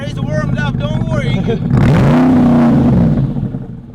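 A warmed-up SLR 722 supercar's exhaust revs with a rumbling, Harley-like burble, swelling loud and close after a few seconds of talking, then easing off.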